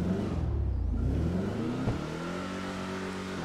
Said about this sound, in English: Let's give it a little rev up here.